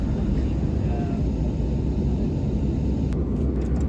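Steady cabin noise inside an Embraer 195-E2 jet in flight, a loud, unbroken low rumble and broadband roar that holds even throughout, with a faint brief click near the end.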